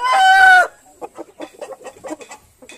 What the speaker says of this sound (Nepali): ल यसो पोथीहरू